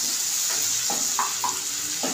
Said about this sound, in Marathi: चांगलं तेलात परतलं पाहिजे.